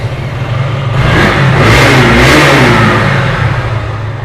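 KTM Duke 200 motorcycle with 28,000 km on it, engine revved up from idle to a loud, close roar that swells and eases back, heard alone with no talk.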